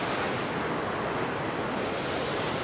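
Glacier waterfall inside a mountain near Lauterbrunnen, Switzerland, roaring as a dense, steady, loud wash of rushing water that fills the whole moment without a break.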